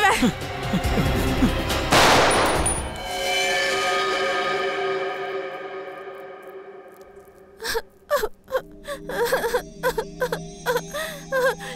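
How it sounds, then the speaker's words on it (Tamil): A gunshot bursts out loud during a heated confrontation, with a ringing echo trailing behind it, while shouting voices and agitated speech surround the blast. "துப்பாக்கில இருந்து குண்டு வெடிச்சது."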